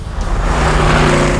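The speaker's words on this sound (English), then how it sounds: "the high flow exhaust that came standard on both spoilers should turn your head" Loud, steady exhaust rumble from a 1969 Mercury Cyclone Spoiler with its standard high-flow exhaust, a deep continuous drone that holds at a constant level.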